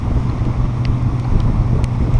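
Wind and waves buffet a small boat during a storm off the Florida Keys, a steady loud roar of wind noise and churning water with no voices.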